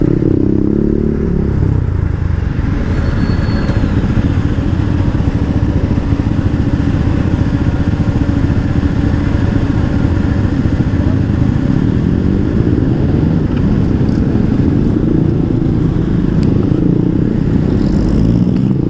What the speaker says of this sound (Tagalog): Ang sarap nga sa tainga nung tambucho ko na ginagamit eh.